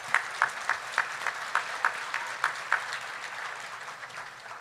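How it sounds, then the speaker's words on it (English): Crowd applause at a school district awards event, a steady wash of clapping with a rhythmic pattern of a few sharper claps standing out, continuing evenly and easing slightly toward the end. "would you all give a round of applause to First Community Bank?"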